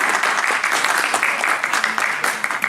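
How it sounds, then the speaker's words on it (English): Audience at a sci-fi convention Q&A panel in Wales applauds the Dead Air crew, a busy patter of many hands with a few sharper claps and faint vocal cheers mixed in, fairly close and steady. "Have a round of applause for these."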